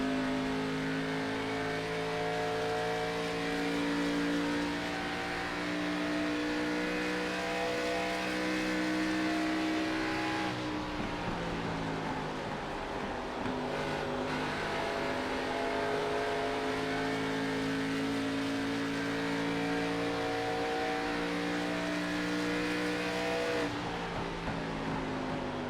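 An iRacing race car on a lap of Pocono Raceway holds a loud, steady engine drone from on board, with the pitch dipping and climbing again as it brakes and accelerates through the corners.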